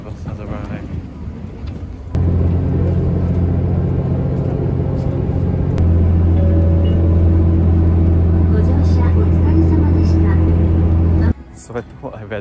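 A bus pulls up on a mountain road near Takamatsu and idles. Its deep engine rumble jumps in, grows louder and holds steady for several seconds, then cuts off abruptly, with a voice speaking over it.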